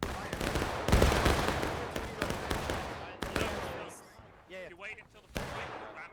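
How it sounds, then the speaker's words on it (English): Ranked musket volleys in the Civil War game War of Rights, with many muskets cracking in dense ragged bursts that thin out into scattered distant shots, with a brief voice. "Bit of ranked fire going on."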